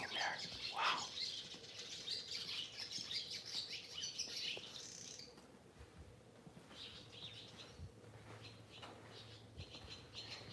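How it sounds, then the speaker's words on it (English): Small birds chirping and squawking around nests in the Higashi Chaya district of Kanazawa on a morning walk, quick bright tweets in clusters over quiet street ambience, fairly faint and at moderate distance. "There's birds living in there."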